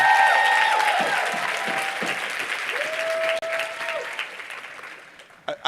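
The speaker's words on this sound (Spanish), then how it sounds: "Let's give it up for Brandon Boyd. Un fuerte aplauso a Brandon." An audience at a motivational speaking event gives sustained, loud applause that fills the hall and fades toward the end.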